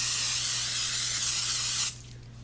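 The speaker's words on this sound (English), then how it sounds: "We're going to lightly grease with a non-stick cooking spray." Non-stick cooking spray misted onto a 9x13 baking dish, a steady close hiss that runs for nearly two seconds and then cuts off sharply.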